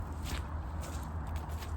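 Footsteps squelch across wet, muddy field ground, soft damp treads repeating close by over a low steady background rumble.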